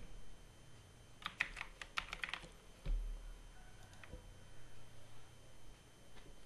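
Computer keyboard keys are pressed for Microsoft Word shortcuts in a quick cluster of sharp, close clicks, followed by a single thump and a few sparse, quieter taps against a low room hum.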